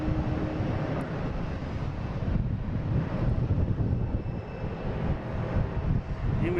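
A Delta Airbus A319 airliner arrives from Raleigh-Durham at Boston Logan International Airport, its engines making a steady, broad roar that holds at moderate loudness throughout, with wind rumbling across the microphone.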